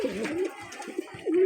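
A big-sized breeding pair of kalishira pigeons coo in soft, repeated low throaty calls, fairly close, with a few short gaps between phrases.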